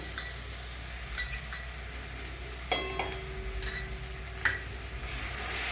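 Paste of coriander, ginger, garlic and green chilli frying in hot tempering oil, a steady close sizzle with a few sharp clicks and scrapes of a spoon stirring, no voices.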